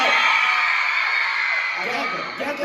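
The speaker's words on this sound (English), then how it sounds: "We've been having a lot of excited screams," A crowd of fans at a Sturniolo Triplets fan event in Toronto screams and whoops excitedly, a dense, loud, sustained wall of high-pitched cheering that eases slightly toward the end.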